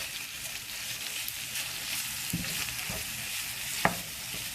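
Minced meat frying with caramelized onions in a pan, a soft steady sizzle with occasional stirring scrapes and a sharp utensil tap near the end, fairly quiet and close.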